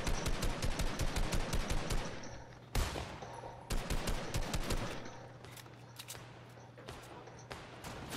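Rapid automatic gunfire from a firefight in the game Bravo Team, sharp bursts of many quick shots with brief pauses between volleys, loud and close-sounding at first, then thinner and more scattered toward the end.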